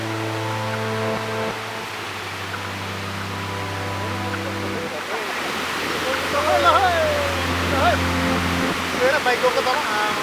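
A swollen river rushes near Bhange waterfall in Rasuwa as a steady, loud, broadband roar, with a droning tone over it at first and voices talking over it later.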